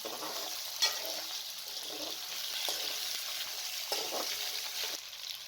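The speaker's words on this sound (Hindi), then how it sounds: "आलू डालकर 3 से 4 मिनट तक मज़ीद भून लें" Potatoes frying with garlic and white cumin in a pan for zeera aloo, a steady close sizzle with occasional stirring scrapes and soft spatula knocks, no talking.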